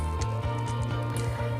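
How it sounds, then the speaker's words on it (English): Wet hair being scrunched with styling product gives soft, rhythmic squelching squishes, repeated several times close up and fairly quiet. "That squelchy noise is always a good sign that you've got enough product in your hair."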